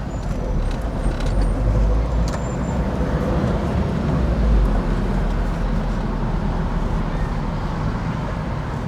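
A car creeping through heavy Friday-night traffic, its engine a steady close rumble and road noise filling the cabin, with occasional faint higher clicks over the continuous low drone.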